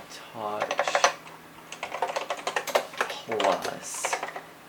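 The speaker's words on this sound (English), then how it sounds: "typing test of the official Macintosh" Keys clacking on a vintage Macintosh Plus keyboard during a typing test, a brisk irregular run of close, crisp strikes mixed with someone talking.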